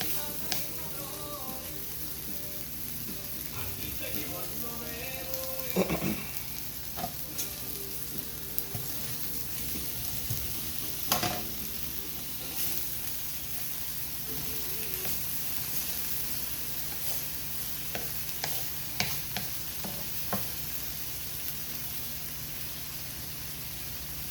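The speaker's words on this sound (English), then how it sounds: "I'm gonna finish charring these onions, and I'm gonna get ready to pull my steak off" Onions and carne asada steak sizzle and char on a grill for a torta, a steady moderate hiss with occasional scrapes and clicks.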